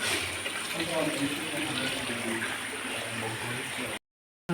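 Continuous rushing water flowing nearby, a steady broadband gush that cuts off abruptly near the end.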